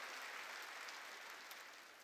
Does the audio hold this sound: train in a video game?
no